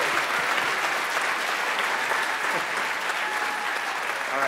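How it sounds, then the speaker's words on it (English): Sustained applause from an audience at an elementary school winter concert, dense continuous clapping at a steady level from start to finish, with faint crowd noise beneath it. "Can we have another round of applause for them, please?"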